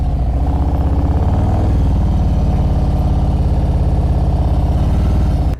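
A motorcycle engine chugs steadily and loudly up close as the bike creeps forward at slow speed with the rear brake applied, a low rhythmic putter that stays even before cutting off at the end.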